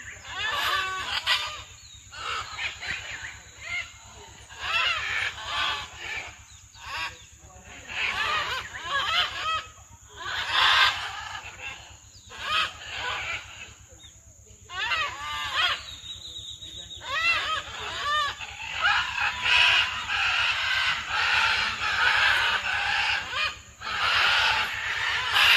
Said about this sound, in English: what it sounds like for these birds in the wild when they're in their natural habitat